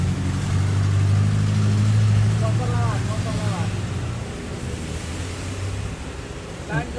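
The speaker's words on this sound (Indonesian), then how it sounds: "bentar ada truk lewat" A passing truck rumbles low and heavy, loudest early and then slowly fading as it moves off, while people talk over it.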